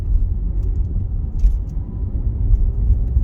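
A manual car climbs uphill held in second gear, its engine giving a steady low rumble from inside the cabin with no break in the drone, heard alone without talk.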